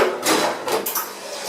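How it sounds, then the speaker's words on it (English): The waste container slides back into a Talento automatic coffee machine with a few close plastic clunks and scrapes in quick succession, no voices. "replace your waste container,"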